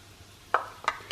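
Onions dropped into a pan and stirred, giving three short scraping clatters of a utensil against cookware over a quiet kitchen background.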